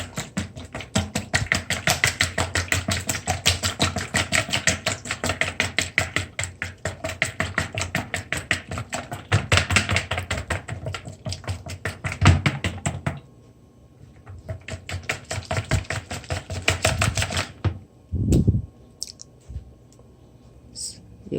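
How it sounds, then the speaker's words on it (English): Eggs whipped briskly in a bowl for an Easter spice bun, a fast, steady clicking of the whisk running close and loud for about thirteen seconds, then a shorter second burst before it stops. "And then you're gonna whip the egg."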